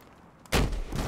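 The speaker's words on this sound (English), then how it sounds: "Fireworks!" Flare fireworks going off in the game Battlefield Hardline, a sudden loud burst after a quiet moment, followed by a sustained crackling rumble with no talk.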